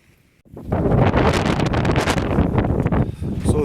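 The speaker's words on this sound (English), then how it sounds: "the nature of the single hoop is this constant flapping" A single-hoop tent flaps constantly in strong wind on a blowy night, a loud, continuous rush of buffeting fabric and gusts that starts abruptly after a brief quiet moment and carries on without a break.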